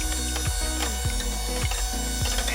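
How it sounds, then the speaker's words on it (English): Egg whites whisked in a bowl, likely with an electric mixer: a constant mechanical whir with a regular clicking, ratcheting pulse recurring about twice a second, close and loud throughout. "take your egg whites, put it in a bowl, and we're gonna whisk that"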